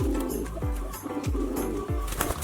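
A pigeon coos close by in a quick series of repeated throaty, rolling calls, strong and continuous over a short span.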